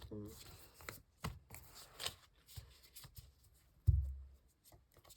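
Tarot cards are shuffled and drawn in a short run of soft riffling and papery flicks, with a sharper slap near the end and a voice speaking faintly at the start.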